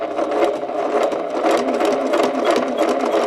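A sewing machine runs steadily while stitching quilt pieces along a quarter-inch seam, a close, continuous buzzing whir with rapid needle chatter and no pauses.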